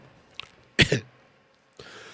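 Three hoarse coughs from one nearby person: a faint one, then a loud double burst, and a weaker final cough after a pause, in a small group where everyone has been coughing.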